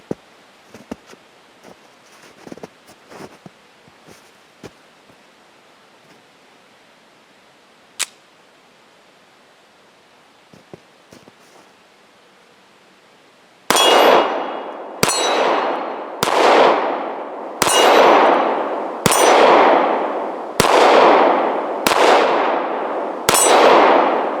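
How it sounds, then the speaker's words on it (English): A Jimenez JA 9 pistol fires through a magazine: after a stretch of faint clicks and handling noises, about nine loud, sharp gunshots ring out at a steady pace, each followed by a short decaying echo. "I want to shoot one more magazine through it"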